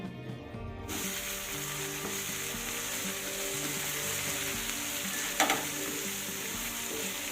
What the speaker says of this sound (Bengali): মশলাটা নেড়ে চেড়ে আরেকটু কষিয়ে নিতে হবে